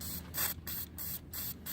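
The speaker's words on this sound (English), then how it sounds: "we'll just spray it just to make sure." Aerosol paint spraying onto a GY6 scooter body panel during rust prep and enamel painting, delivered in five short, close hissing bursts separated by brief pauses.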